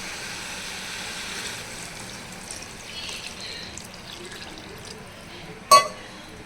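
Water is poured into a pan of browned, fried brinjal for poricha kuzhambu, making a soft, steady hissing wash that is ended by a sharp metallic clank near the finish.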